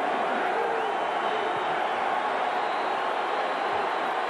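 Record crowd of about 70,000 filling Kinnick Stadium in Iowa City for an evening college football game, Miami at Iowa, a steady dense roar of distant voices and cheering with no pauses.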